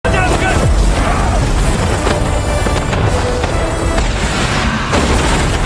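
A large explosion in a martial arts film fight scene, a loud booming blast followed by crackling, rumbling debris and bursts that stay dense and forceful throughout, with no talking over it.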